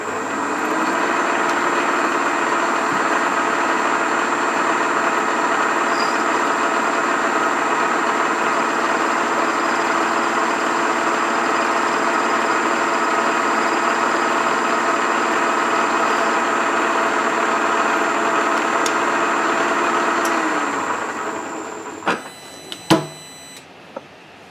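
Metal lathe running steadily while a Hemingway kit ball turner takes a cut, a loud continuous machine drone with a constant pitch lasting about twenty seconds, then winding down followed by a few sharp metallic clicks and knocks.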